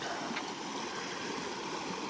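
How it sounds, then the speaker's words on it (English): A mountain stream, Bald Mountain Stream on the Appalachian Trail near Monson, flows with a steady, even broadband rush that stays close and constant, with no voices over it. "This is Bald Mountain Stream."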